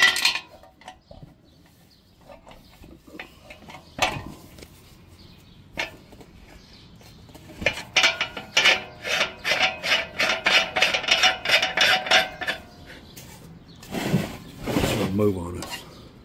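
Metal screwdrivers scrape, pry and click against a German beer keg spear while a rubber ring is levered off, with scattered taps followed by a burst of rapid rasping scrapes and clatter close by.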